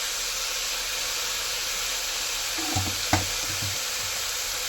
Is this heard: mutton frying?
yes